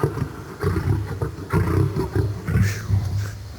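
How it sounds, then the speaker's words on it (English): A big cat at a zoo roars in a run of deep, loud, rhythmic grunting bellows, close by, with a rough throaty texture and echo, heard alone without talk. "When they're angry or agitated, you can hear their roars echo throughout the zoo."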